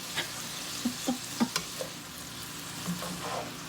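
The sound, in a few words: stirring stir-fry veggies and potatoes in pan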